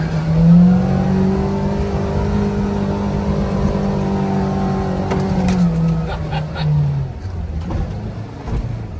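A Kawasaki Ridge side-by-side UTV in low gear climbs a steep hill, its engine loud and close, rising in pitch as it accelerates and then dropping off as the run eases.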